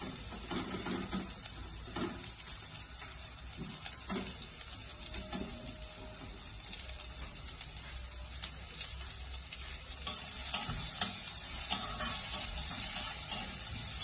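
Chopped onion, beans and carrot sizzling steadily in a pan while a breakfast Maggi noodle dish is prepared, a continuous crackling hiss with occasional stirring clinks and no talk.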